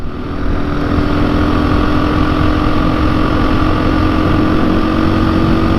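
A KTM motorcycle engine runs loud and steady, a close, continuous droning hum with a fixed pitch throughout, alone without any speech.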